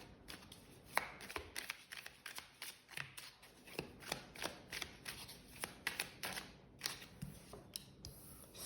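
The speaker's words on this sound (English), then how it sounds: "Okay, cards 1 to 3 shuffle." Playing cards are shuffled repeatedly, a series of quick crisp riffles and taps in a steady rhythm, close and fairly quiet.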